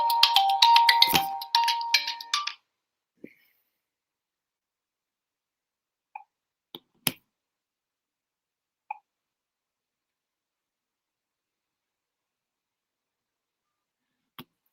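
A mobile phone ringtone plays at a talk, a loud melodic tone that stops after a couple of seconds, followed by a few isolated faint clicks and taps in near silence.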